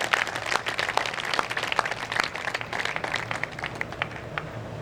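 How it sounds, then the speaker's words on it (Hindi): Audience applause at a Hindi poetry recital (kavi sammelan) held by a civic organisation's local branch, a dense continuous patter of many hands clapping at steady moderate loudness with no voices over it. "और जोरदार तालियों की गड़गड़ाहट होनी चाहिए।"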